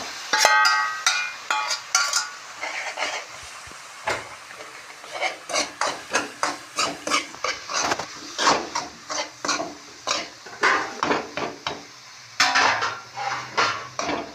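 Semolina halwa being stirred in a pan after syrup is added, a metal spoon scraping and clanking against the pan in a steady, repeated rhythm, close and fairly loud.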